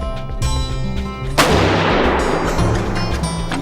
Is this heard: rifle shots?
yes